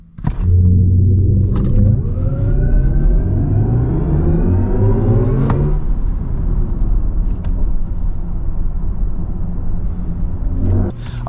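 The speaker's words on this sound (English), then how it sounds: "you really do have this really quick burst of violent acceleration" A 650-horsepower 2026 BMW iX M70 electric car accelerates hard on the road: a deep loud rumble with a rising whine that climbs steadily, then settles into a sustained cabin drone.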